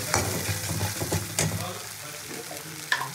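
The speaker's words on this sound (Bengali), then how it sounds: "যে মশলাটাকে খুব ভালো করে কষিয়ে নেবো।" Spice paste frying and being stirred in oil for a vegetarian curry, a soft sizzle broken by a few sharp scrapes and knocks of a spoon against the pan, close and fairly quiet.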